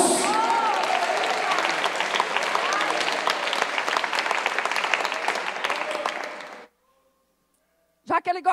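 A church congregation applauds in a dense, loud wave of clapping with cheers mixed in for several seconds, then it cuts to silence and a voice begins speaking.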